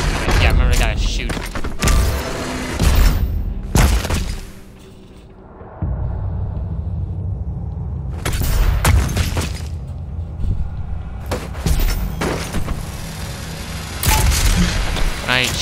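Gunfire in Doom Eternal, loud bursts of heavy shots and booming impacts coming in clusters, with a brief lull midway before more rapid blasts.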